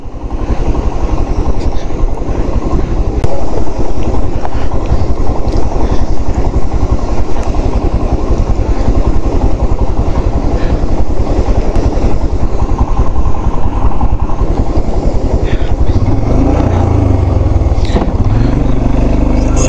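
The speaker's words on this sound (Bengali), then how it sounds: "আর যথারীতি এখানেও বেশ ভালো জল রয়েছে, জলটা পেরোতে হবে।" An off-road vehicle crosses a stream in the Spiti Valley with a loud, steady engine roar and rushing water. Scattered voices sound faintly beneath the noise.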